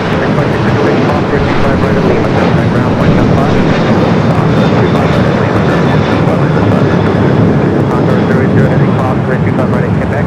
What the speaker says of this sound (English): ANA Dreamliner in the Star Alliance livery